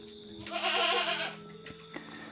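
A single goat in heat bleats loudly and nearby, a drawn-out wavering cry over low background hum.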